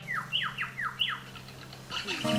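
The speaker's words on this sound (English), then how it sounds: "There's at least 6 or 8 glossy black cockatoos through this section." Several glossy black cockatoos in a forest give a quick series of descending, squeaky calls, moderately distant over a low steady hum, followed by a few brief, tonal chirps.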